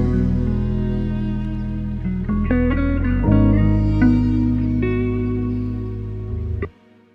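A cello layer in a lofi beat built in Ableton Live, sustained bowed tones shifting through a few pitches with soft layered harmonics, playing alone and then cutting off abruptly near the end.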